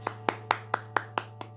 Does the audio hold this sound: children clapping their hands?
yes